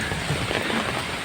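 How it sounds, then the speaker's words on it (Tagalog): Heavy rain pouring steadily in flooded Manila, a dense continuous hiss of water hitting surfaces, no voices. "Walang tigil ang ulan dito sa Manila."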